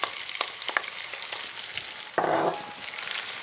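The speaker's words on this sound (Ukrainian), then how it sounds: "І даємо цибулю на пательню, щоб вона підпасирувалася." Chopped onion sizzling in a hot frying pan while cabbage rolls with sauerkraut are made, a steady crackle broken by light stirring taps and a louder hiss that swells briefly near the middle.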